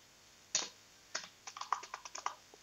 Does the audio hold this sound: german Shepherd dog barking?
no